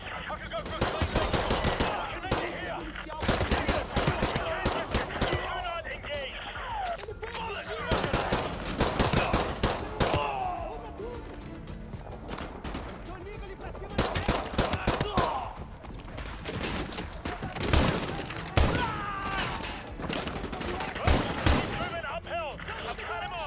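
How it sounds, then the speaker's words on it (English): Dense gunfire in Modern Warfare 2 Remastered, rapid bursts and single loud shots cracking in quick succession with brief lulls, mixed with a speaking voice and other game sounds. "it's a pistol of some kind"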